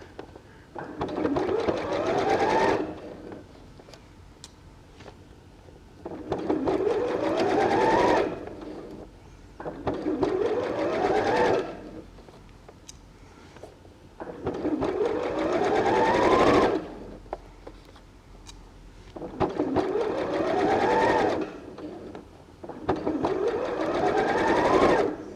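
A sewing machine stitches a fabric cat purse in repeated bursts of steady whirring, each lasting a few seconds and separated by short pauses, close and prominent throughout.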